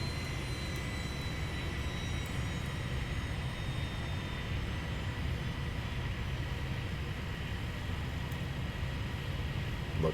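Airliners rolling down the runway in the Airport Madness 3D game at Princess Juliana airport: a continuous, dense roar of jet engines that stays level throughout, with a faint high whine above it.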